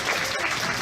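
Steady applause from a county fair crowd for young exhibitors at a beef cattle showmanship class, a dense continuous clatter of clapping filling the whole short moment.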